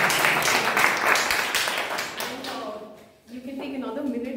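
Applause from a Toastmasters club meeting audience, a clear burst of many hands clapping that thins out after about three seconds, then a person starts speaking.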